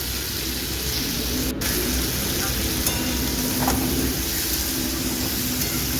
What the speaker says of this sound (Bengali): এটা একটু সময় নিয়ে কিন্তু পুরো আলু বরবটিটাকে ভেজে নিতে হবে।